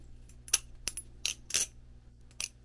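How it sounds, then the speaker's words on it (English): A bearing balisong knife that needs lubrication is flipped, giving sharp metallic clacks and clicks in irregular bursts, close and fairly quiet, with no voices. "Got a bit of a clack to it that I think could be fixed with some lubrication."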